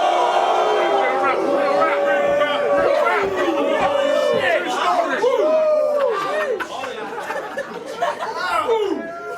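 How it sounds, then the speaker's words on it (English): A crowd at a rap battle reacts loudly, with overlapping shouts, chatter and laughter rising and falling around a rapper's voice throughout. "Listen to the crowd, youth."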